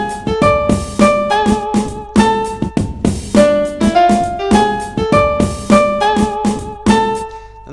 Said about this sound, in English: So don't bring anything in until the second beat,